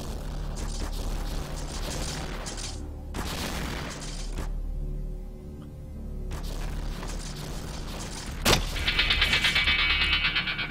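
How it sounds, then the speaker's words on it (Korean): Gunfire from the video game Counter-Strike 2 during a prop hide-and-seek match, with bursts and booms recurring across the scene, one sharp loud shot near the end followed by bright mechanical noise. "총소리 계속 나는데?"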